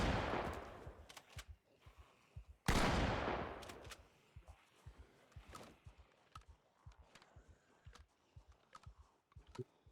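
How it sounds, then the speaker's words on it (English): Shotgun blasts in the zombie survival game Project Zomboid: two heavy booming shots with long decaying tails, followed by a string of fainter irregular thuds and clicks, no talk. "Gotta love video game shotguns."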